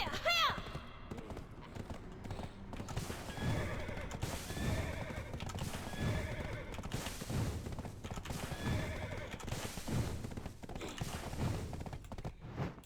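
A horse in Black Desert Online neighs and whinnies repeatedly while its hooves clip-clop in a rapid, steady gallop, with a voice talking over the game sounds.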